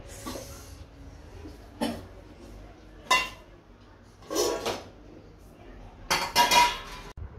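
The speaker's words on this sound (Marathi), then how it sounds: "तर मी पहिला किचन ओटा आवरते आहे." Dishes and utensils clink and clatter as a kitchen counter is tidied, in about five separate bursts of clatter with quiet gaps between, close by and moderately loud.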